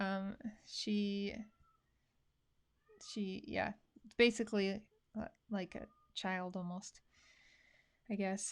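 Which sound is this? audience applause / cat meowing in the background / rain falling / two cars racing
cat meowing in the background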